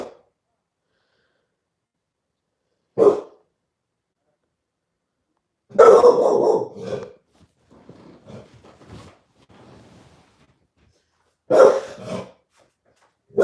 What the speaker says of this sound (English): He's barking at the neighbor.